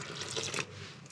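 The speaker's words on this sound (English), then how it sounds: "So first we can add in our warm water." Warm water is poured into a mixing bowl as the base of dough for steamed char siu pork buns, a short, steady splashing pour close by with no talking.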